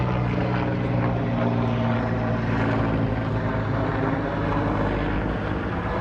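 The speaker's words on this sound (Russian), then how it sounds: "А там вот летит вертолет." A helicopter flying over San Dimas, California, producing a steady, continuous rotor and engine drone that fills the whole stretch at an even loudness, with no talking.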